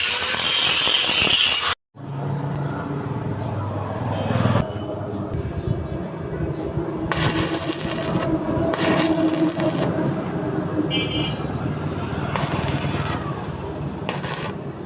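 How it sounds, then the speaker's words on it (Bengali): An angle grinder smooths the sides of a clay stove built for parboiling rice, running as a steady, loud, gritty whir with a brief cutout near the start and rough surging throughout. "প্রচুর বগল সাইড গ্যান্ডিং মেশিন দিয়ে ঘষি দিতেছি"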